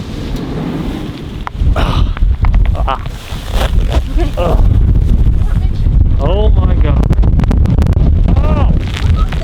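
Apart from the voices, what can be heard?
strong wind and rain buffeting van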